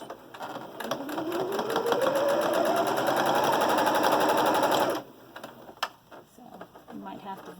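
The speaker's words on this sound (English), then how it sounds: "I'm going to have to wind my bobbin here soon" A home sewing machine winds its bobbin at steady high speed, a fast even whir that rises in pitch as it spins up and runs for about five seconds, then cuts off, leaving quieter clicks and handling noise at a mask-sewing table.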